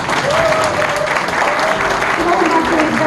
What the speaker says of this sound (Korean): 큰 박수와 함성으로 맞이하여 주시기 바랍니다